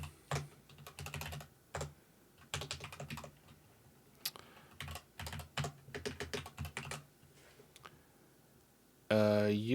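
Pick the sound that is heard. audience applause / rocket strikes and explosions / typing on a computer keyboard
typing on a computer keyboard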